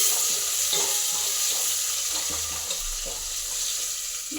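Onions and crushed cumin fry and sizzle loudly in a pan, a steady bright hiss with faint stirring scrapes running throughout.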